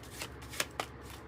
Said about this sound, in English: let's get another card here on this first day